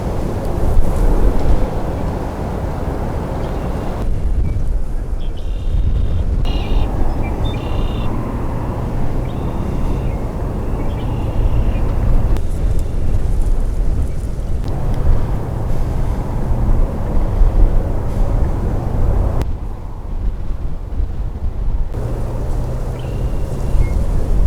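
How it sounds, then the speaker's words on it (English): Strong, gusty wind of around 20 miles an hour buffets the microphone beside the Rio Grande river behind a salt cedar, a loud continuous roar and rumble that swells and eases in waves. "I'm standing behind this salt cedar so I don't get beat up by the wind"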